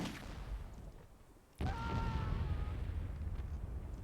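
A cannon blast in Myth II Soulblighter cuts in suddenly as a sharp boom, followed by a rumbling, crackling decay with thin whistling streaks, over ongoing battle noise.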